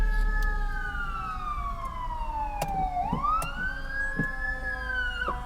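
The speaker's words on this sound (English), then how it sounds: "All right, we got an ambulance behind us. Or a firefighter, I'm sorry." Fire truck siren wailing close by in downtown Toledo traffic, a loud continuous tone sliding down then sweeping back up, with engine rumble beneath and no talk.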